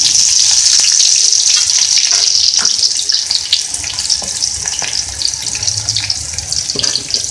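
Loud, steady sizzling of green chilies, onion and garlic frying in hot ghee, a dense hiss with occasional pops and stirring scrapes, no talking.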